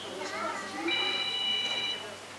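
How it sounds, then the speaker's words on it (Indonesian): A mobile phone ringtone recites Surah Quraisy in a melodic chanted voice, heard through a room alongside children's chatter and background voices, playing for a couple of seconds. "Siapa yang bunyi HP-nya hafal surah Quraisy?"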